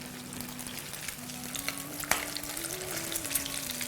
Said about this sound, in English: We're making our fish balls, dipping them in the eggs, and throwing them into hot oil.